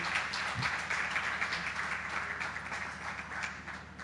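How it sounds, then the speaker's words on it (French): Audience applause at a masterclass, a soft, steady spatter of many hands clapping at a moderate distance, fairly even throughout with no voices over it. "Oui, ça s'applaudit, mesdames et messieurs."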